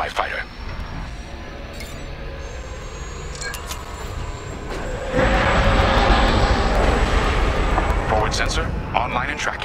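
A starfighter engine in the Star Wars Squadrons game hums steadily, then swells into a louder, fuller roar as the throttle rises, continuing close and loud to the end.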